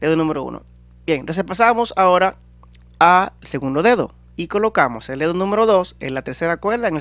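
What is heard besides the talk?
No distinct noise like a dog, phone or traffic.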